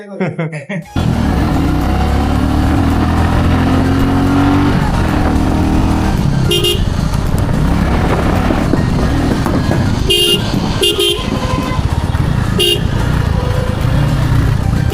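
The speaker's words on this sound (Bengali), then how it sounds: "তুমি হর্ন দিচ্ছি দেখো না" Road traffic roars steadily with several short car horn toots spread through it, loud and close, and people talk over the engine noise.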